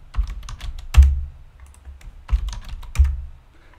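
Keys clatter on a computer keyboard as a word is typed into an input field, a few quick clusters of close, crisp clicks with louder strikes, likely including the enter key, and short pauses between them.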